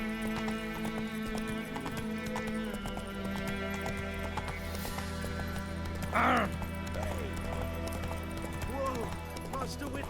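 Roach the horse galloping in The Witcher 3, with steady rapid hoof clip-clops and a whinny partway through, under a voice talking in the foreground.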